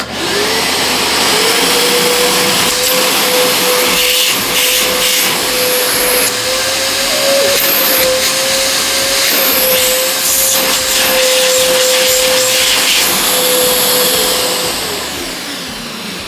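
A 2400W industrial vacuum cleaner in suction mode runs loud and close with a steady high whine and rushing airflow, holding a constant pitch for over ten seconds before its motor spins down at the end.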